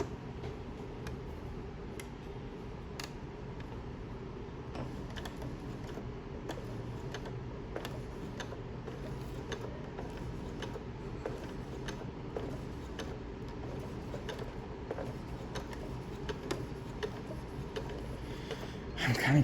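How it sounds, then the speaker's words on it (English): A sewing machine stitches through thick layers of inkle-woven band, a steady mechanical whir with regular ticking clicks, close and even throughout, ending with a brief louder handling noise. "But I'll try to sew where I get through all the layers on the side"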